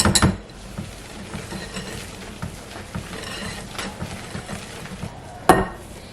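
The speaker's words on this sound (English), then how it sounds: "Just roughly mix it." Pancake batter being roughly mixed in a bowl, with a soft continuous scraping and clinking of utensil against the bowl and a louder knock near the end, close by with no talk.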